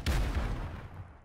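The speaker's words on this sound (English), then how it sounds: "That's a grenade, look out." A grenade blast in the Warzone video game, heard as a single deep, muffled boom that hits at once and fades away over about a second.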